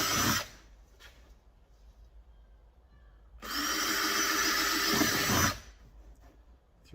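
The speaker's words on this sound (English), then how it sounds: "put a couple of small drill holes through it" A power drill whirs in two short bursts while drilling small holes in a quad bike part, the second lasting about two seconds, separated by quiet with faint background noise.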